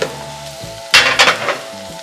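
Korean chive pancake batter sizzles in oil in a hot pan in short crackling bursts over a steady low hum.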